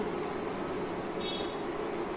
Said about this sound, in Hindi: अब इसमें हम डालेंगे ये बचे हुए चने का पानी।